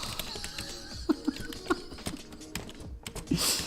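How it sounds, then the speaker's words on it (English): Irregular clicks and taps of someone typing on a computer keyboard, close and moderately loud, with a few sharper keystrokes and short pauses between bursts. "See me type well."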